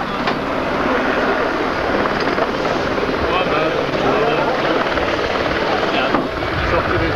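Model aircraft at a 1981 model flying meeting in Yverdon making a full-throttle pass over the runway, a loud continuous buzzing engine drone with voices faintly beneath.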